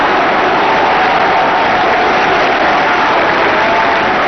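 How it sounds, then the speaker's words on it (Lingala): Sustained dense applause from a large audience interrupting Lumumba's speech, a loud even roar of clapping with no breaks. "Lumumba est interrompu 8 fois par des applaudissements nourris"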